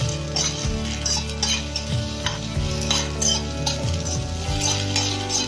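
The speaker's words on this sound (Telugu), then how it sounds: "కొంచెం ఆయిల్ వేసి వేగనివ్వాలి" Green chillies frying in oil in a pan, with a steady close sizzle. A utensil stirs against the metal in repeated scraping clinks.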